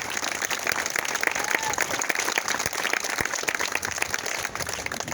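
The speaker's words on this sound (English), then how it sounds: "I'd like a round of applause for the families, for the youth who came out for this experience." Steady applause from a gathered audience of families and youth at a community event, dense clapping sustained evenly throughout without a break.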